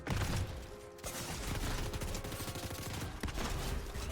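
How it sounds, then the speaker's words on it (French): Gunfire during a Fortnite match, with bursts of shots crackling at a distance over a dense, busy game soundscape and no clear talk. "Ok, ça tire là-bas."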